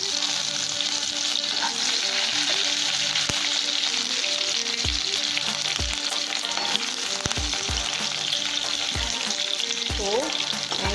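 Squid thokku base of garlic and curry leaves frying in hot oil, a dense close crackle and sizzle with several sharp spoon knocks and scrapes against the pan, no one speaking.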